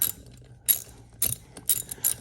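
A half-inch sleeve anchor being tightened in concrete block, heard as short ratcheting clicks in separate bursts with quiet gaps between, close and fairly crisp.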